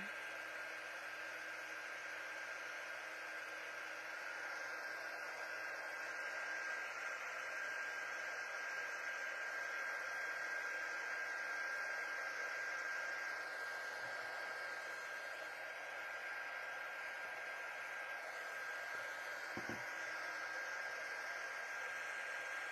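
A hair dryer blows steadily on a layer of surface wax during a late-night crafting session, a constant loud whirring hiss that runs unbroken throughout with only a brief faint knock near the end.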